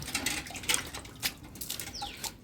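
Water is splashed onto a cow before milking in short, uneven bursts of splashing and dripping, fairly close, with faint birds in the background and no talk.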